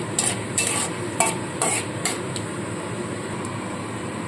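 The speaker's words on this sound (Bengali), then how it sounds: "চিরঞ্জি আর কাজু বাদামটা একটু লাল লাল করে ভাজতে হবে।" Chironji seeds and cashew nuts fry in hot oil for mutton korma, a soft steady sizzle punctuated by a series of sharp scraping stirs of a spatula in the pan, then settling into quieter frying.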